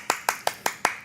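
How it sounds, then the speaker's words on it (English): Five evenly spaced hand claps ring out in quick succession, sharp and close, like a single person applauding briefly, at a gem and mineral show. "She deserves an applause."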